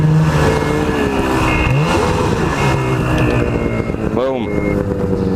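Snowmobile engine revving while riding after a snow storm, a loud, steady close drone that rises and falls in pitch, with wind and rumble throughout.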